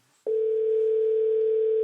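A steady telephone tone while placing a call starts abruptly after a brief quiet moment and then holds as a single loud, unbroken pitch, with no voices.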